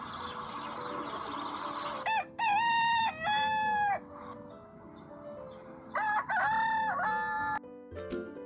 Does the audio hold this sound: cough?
no